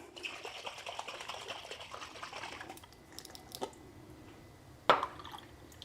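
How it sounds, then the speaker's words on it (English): Chicken broth sloshes inside a lidded container as it is shaken to rinse out leftover Alfredo sauce, a wet churning swish for about three seconds, then quieter with a few small knocks and one sharp clunk near the end. "I'm gonna put the lid on it and shake it around"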